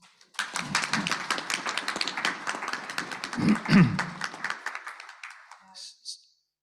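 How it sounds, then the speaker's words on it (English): A conference audience at an annual general meeting breaks into a round of applause, sharp individual claps near and far building quickly, then thinning out and stopping after about six seconds. "And I think that deserves a round of applause."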